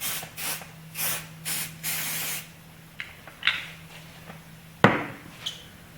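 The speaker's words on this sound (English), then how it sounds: "This is called Stoner Mold Release, and you need to spray it in the mold." Several short hissing bursts of aerosol mold release sprayed into a silicone mold, close up, in a quick series, followed by a few faint clicks and a sharper knock.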